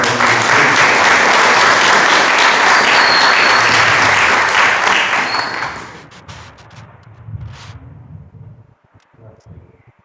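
Church congregation applauds loudly and steadily for about six seconds, then the clapping thins out and fades into quieter room sound with scattered noise.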